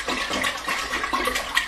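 Cold water pours steadily into a Mr. Beer fermenting keg to top off the wort, a continuous close splashing and gurgling stream with no voices.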